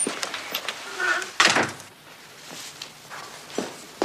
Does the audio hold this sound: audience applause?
no